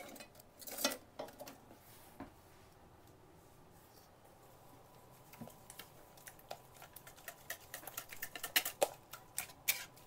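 Brown sugar banana cake mixture being stirred in a bowl, quiet scattered clicks and scrapes of a utensil against the bowl, growing busier toward the end, close but faint.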